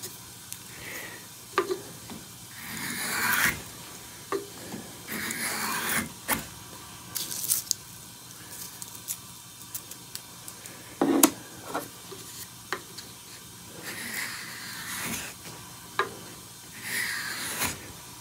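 A small Veritas miniature plane shaving 100-year-old dry cedar, giving repeated soft rasping strokes that rise and fall at irregular intervals over a steady low background hiss, close and moderately loud.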